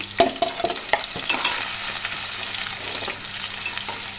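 Sliced onion fries in hot oil with green chillies for a village-style potato curry: a continuous sizzle under a few scraping stirs near the start, with no voices.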